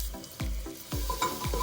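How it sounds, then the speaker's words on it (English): Crushed garlic dropped into hot oil in a pan while cooking, giving short bursts of sizzling with stirring scrapes, close and alone, about four quick surges in under two seconds. "Octopus chopped, time to start frying things."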